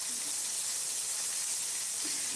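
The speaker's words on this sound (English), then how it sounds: "Make sure you see those mushrooms frying." Mushrooms frying in a pan, a steady close sizzle and hiss that holds evenly throughout with no talk over it.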